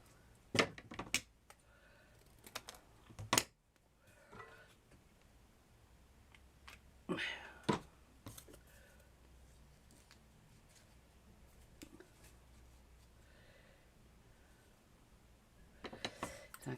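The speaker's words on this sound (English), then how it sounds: "So I'm just going to just cut trashy bits like this" Cutting small pieces for a miniature vintage diorama garage with window and metal roof: a few sharp, quiet snips and clicks scattered at irregular intervals over a hushed room, with no talking.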